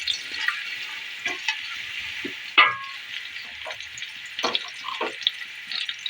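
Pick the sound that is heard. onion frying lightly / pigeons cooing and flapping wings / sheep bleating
onion frying lightly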